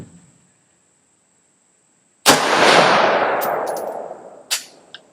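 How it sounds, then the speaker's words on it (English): A single loud close rifle shot from a JAKL 13.7-inch 5.56 skeleton-stock rifle firing AAC ammunition, with a sharp crack and long fading echo, a metallic clink or steel-target ring and a smaller click trailing after. "I don't know how many rounds I got here, but we're gonna shoot them all."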